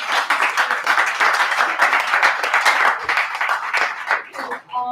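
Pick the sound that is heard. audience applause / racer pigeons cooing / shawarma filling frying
audience applause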